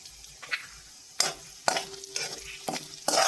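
Besan cooked in a pan with hing, turmeric and salt: a quiet sizzle with several sharp scraping and knocking strokes of a spoon against the pan at irregular intervals, close by.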